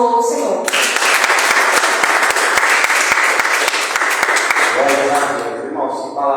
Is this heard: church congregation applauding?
yes